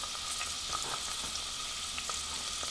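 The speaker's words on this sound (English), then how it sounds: "I'm going to fry my onion in there first." Onion frying in coconut oil for sambal kluwak, a steady close sizzle with faint scattered crackles and no voices.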